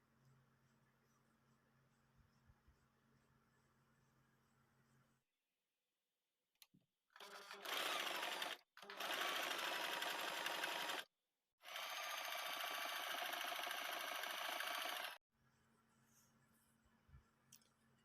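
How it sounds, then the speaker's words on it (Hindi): Sewing machine stitching fabric for a kurti, two loud close bursts of fast motor whirring separated by a short pause, with quiet room hum before and after. "साइड से फोल्ड करते हुए हम यहाँ पे सिलाई लगाएंगे, इस साइड भी।"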